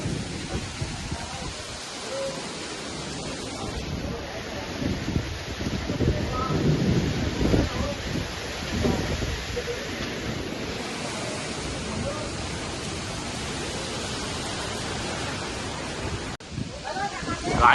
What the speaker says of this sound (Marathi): आला बेकार पाऊस आला आता.